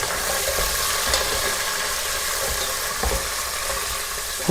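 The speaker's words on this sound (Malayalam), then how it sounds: "കറിവേപ്പില എല്ലാം ഇട്ട് കൊടുക്കണേ. ഓക്കെ, നന്നായിട്ടൊന്ന് വഴറ്റി കൊടുക്കുക." Curry leaves sautéed in hot oil with garlic and dried red chillies for pickle, giving a steady, loud, close sizzle with faint stirring throughout.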